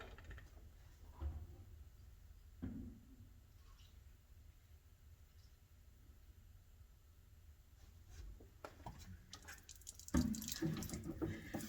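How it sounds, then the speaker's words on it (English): Water pours from a clogged-then-cleared sunroof drain on a Jeep WK, a steady splashing trickle with a louder gush of flow toward the end, close up. "we have great flow, tons of water coming out of this one"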